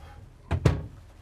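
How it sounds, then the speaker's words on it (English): The bathroom door of a Jayco Seneca 37HJ RV is opened and closed nearby, two quick thumping knocks close together in an otherwise quiet interior. "Door operates perfect"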